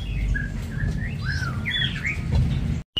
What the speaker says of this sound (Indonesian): Ada kutilang nih guys, ini kutilangnya nih.